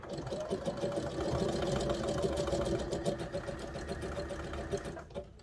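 A sewing machine runs steadily with a fast mechanical whir and rapid needle clatter, stitching an elastic waistband with a stretch stitch on wrestling pants, loud and close throughout, slowing just before the end.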